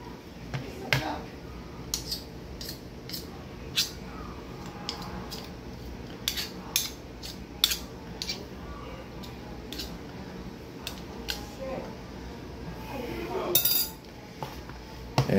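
A spoon mixing peanut butter bird food mix in a black plastic bowl: repeated close scraping, tapping and soft clinks in an irregular rhythm, with a faint sticky squish, no speech.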